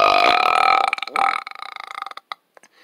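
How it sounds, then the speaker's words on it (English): A loud, drawn-out burp after eating cheeseburgers rumbles for about a second, then breaks into a ragged, stuttering tail of smaller croaks that fade away. "Can y'all do a cheeseburger burp?"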